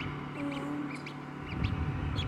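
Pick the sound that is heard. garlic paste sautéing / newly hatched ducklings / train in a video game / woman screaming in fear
newly hatched ducklings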